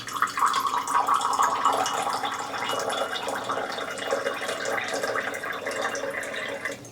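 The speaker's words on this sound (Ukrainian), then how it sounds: "і пластиковий кран шарового типу" A plastic ball-type tap lets water run into a glass, giving a continuous close hissing splash that holds steady the whole time with no voices.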